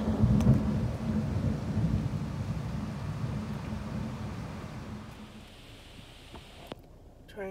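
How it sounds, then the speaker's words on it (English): A thunderstorm with heavy rain: a low rumbling roll of thunder dominates the start and slowly fades, leaving a steady hiss of hard rainfall that drops off near the end. "Got a big old storm happening."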